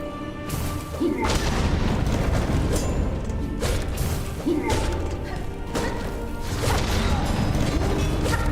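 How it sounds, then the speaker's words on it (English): Repeated heavy bomb blasts in the video game Silksong, three or four loud booming crashes spaced a few seconds apart over a dense, continuous game soundtrack. "Stop bombing me"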